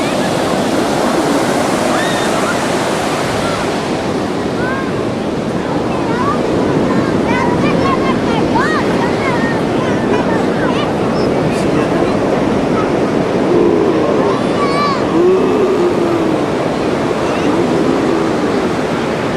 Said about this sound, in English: looking at the waves.